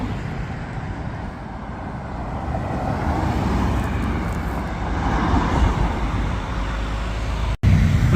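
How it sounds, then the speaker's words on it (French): A green BMW M3 drives past on a city street, its engine and tyre roar swelling and fading over steady traffic noise, close and fairly loud, with a sudden cut near the end. "La M3 vert de tout à l'heure qui repasse."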